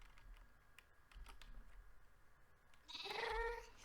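Sheep bleating inside Minecraft's Stoneblock modpack, one clear wavering bleat near the end after faint clicky game sounds, fairly quiet overall.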